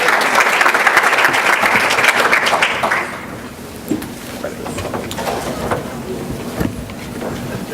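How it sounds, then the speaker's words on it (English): Audience applauding for a Virginia State University student at a conference on HBCUs, a loud full round of clapping that fades out after about three seconds, followed by quieter room noise and scattered bumps. "You can clap for Virginia State."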